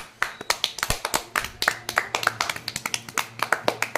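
A group of village boys claps hands in quick, uneven bursts, sharp slaps overlapping at close range for a few seconds with no talk over them.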